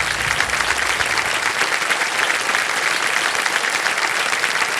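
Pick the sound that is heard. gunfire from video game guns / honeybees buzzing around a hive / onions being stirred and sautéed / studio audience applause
studio audience applause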